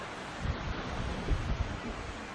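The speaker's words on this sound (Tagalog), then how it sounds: "Ayun yung dagat." Surf rolls onto a black lava-stone beach at Skarðsvík in Iceland, a steady low wash of waves mixed with wind rumbling across the microphone, with no one speaking.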